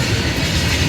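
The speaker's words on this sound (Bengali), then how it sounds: "আর এটা হচ্ছে মালগাড়ি।" A freight train rolls past a level crossing, filling the moment with a loud, close, continuous rumble and rattle of wagons.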